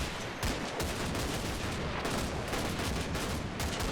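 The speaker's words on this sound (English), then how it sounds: "We've just attracted fire from along the line." Gunfire in the Combat Mission: Battle for Normandy war game crackles as a dense, continuous barrage of overlapping shots and bursts, loud and unbroken throughout.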